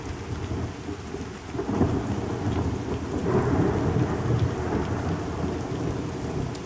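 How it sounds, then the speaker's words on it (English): Steady rain pours in the Pantheon video game while thunder rolls low and heavy through it, a dense, continuous storm with deep rumbles swelling midway, and no voices. "I love how the rain rains."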